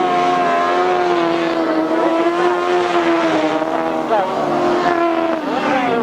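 Grasstrack racing motorcycles at a 1998 Collier Street meeting, engines droning loudly and continuously with rising and falling pitch as the machines race, a commentator talking over them.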